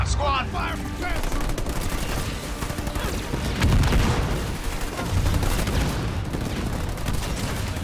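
Gunfire in a Halo Wars 2 battle: dense bursts of automatic and scattered weapon fire with a heavier boom midway, loud and continuous, under brief radio-style chatter from units.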